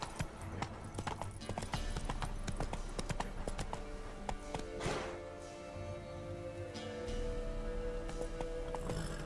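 Roach, the horse in The Witcher 3, gallops with steady rapid hoofbeats at close range, joined by a brief whinny and other game sounds, with no talking.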